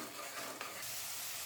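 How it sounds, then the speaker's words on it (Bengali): Spices being fried and stirred in a pan for rajma, a steady close sizzle with scraping stir strokes throughout, no voices. "এইভাবে মশলা কষিয়ে নেব।"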